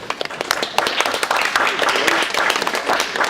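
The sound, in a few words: audience applause for the hosts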